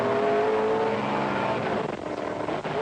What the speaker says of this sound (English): Full acceleration.